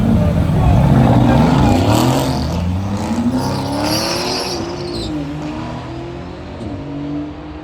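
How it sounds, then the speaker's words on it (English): McLaren Artura and Nissan Patrol launching in a drag race, a loud close engine roar with rising revs and a long accelerating pull that fades slightly as the cars move off. "अब जा रही है McLaren Artura. McLaren Artura versus the Nissan Petrol probably."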